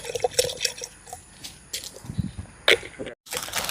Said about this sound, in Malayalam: ഒരു ഉദ്ദേശം വെച്ച് നമുക്ക് ഒഴിച്ചു കൊടുക്കാം